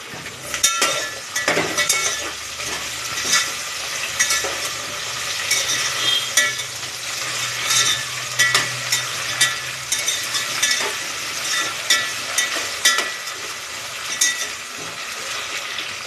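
Potatoes hit a hot pan and fry with a steady, close sizzle. A spoon scrapes and clinks against the pan in repeated stirring strokes throughout, with no talking.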